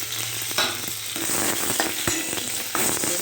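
Tomato sizzles and spits in a pan with dried red chilli, five-spice and garlic, a dense close crackling hiss punctuated by scrapes and knocks of a stirring spoon.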